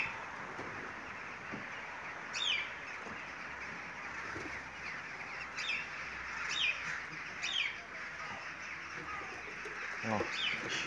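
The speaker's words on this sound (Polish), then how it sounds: "Tu też pełno ptaków." Many birds call outdoors in winter near a flock being fed, with sharp chirps and tweets repeating over a steady rushing background, some calls closer and louder than others.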